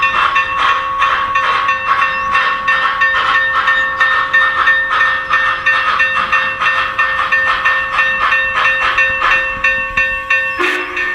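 An HO-scale model train, a Union Pacific 4-8-8-4 Big Boy locomotive, runs along its track with a steady rhythmic clicking and a faint whine, plus a brief higher tone near the end.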